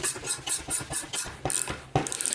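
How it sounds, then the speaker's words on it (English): A ratchet tightens the two nuts on a BB30 bottom bracket bearing press, giving a string of quick rhythmic clicking strokes, close and fairly loud, ending with a few sharper clunks. "So we just start tightening away."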